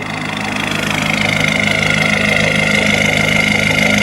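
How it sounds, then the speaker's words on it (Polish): A 2014 BMW 320d (F30) diesel idles steadily, loud and rough, with a raspy, open exhaust drone from a removed rear silencer and cut sport exhaust, continuous throughout with no pauses. "Auto mocno hałasuje, nie ma ostatniego tłumika, ma wycięty sportowy wydech."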